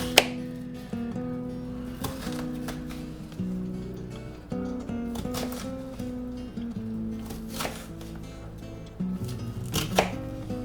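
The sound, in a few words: chopping onion into small pieces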